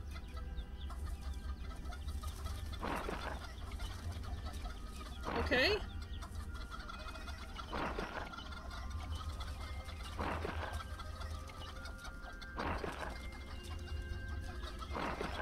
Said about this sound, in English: There are actually a lot of chickens.